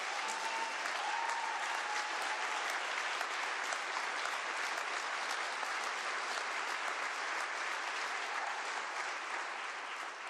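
Sustained applause from a state legislature during Washington Governor Jay Inslee's final State of the State speech, a dense, steady roar of clapping filling the chamber for about ten seconds.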